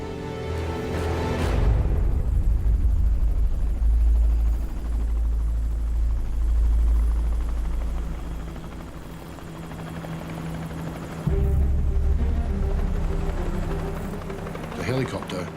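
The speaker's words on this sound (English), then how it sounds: "There's a helicopter!" A helicopter flies overhead in the remote outback, its loud rotor thump and engine roar swelling, easing and surging again across the clip, with voices shouting over it.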